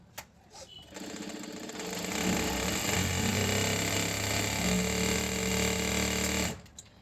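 An electric sewing machine runs steadily for several seconds, a close continuous motor whir with a rapid needle clatter, starting after a brief pause and stopping near the end, with no talking.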